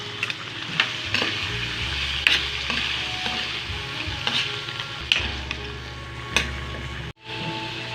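Boiled, softened pork pata being stirred into tomato paste in a hot pan for pork balbacua: continuous close sizzling and frying with intermittent scrapes and knocks of the stirring spoon, no talking.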